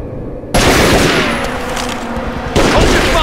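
Sustained burst of automatic gunfire in the video game Tomb Raider: Legend, loud and dense, beginning abruptly after a quiet moment and intensifying again near the end, with no talk.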